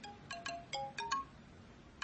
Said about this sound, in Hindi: ऑफिस से फोन है, बात करनी पड़ेगी।